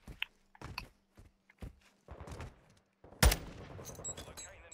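Gunfire in a multiplayer shooter video game, scattered sharp shots early on and then a loud burst of rapid fire, with a player talking over the game sounds.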